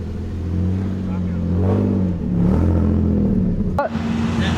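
A Nissan 350Z drift car idles and revs with a deep, throbbing engine note as it pulls out, the pitch rising and falling nearby while people talk over it and a brief sharp squeak cuts in near the end.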